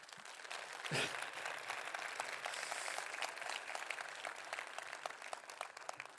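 Applause from a conference audience after a security talk, a sustained wash of many hands clapping at moderate distance, fairly even from start to finish.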